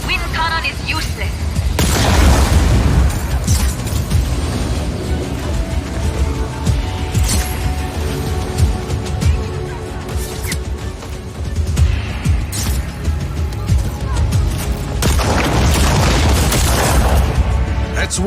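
Booming explosions tear through a wind cannon's intake in a Just Cause 4 battle in a canyon, dense and loud with heavy low rumble, bursts recurring over continuous chaotic action.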